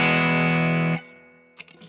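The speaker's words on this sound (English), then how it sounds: "So I swapped out that bridge pickup for a humbucker, and now it sounds like this." A distorted electric guitar chord through a humbucker bridge pickup and a Vox AC10C1 amp rings out loud and sustained for about a second, then cuts off, followed by a few quiet string and pick noises.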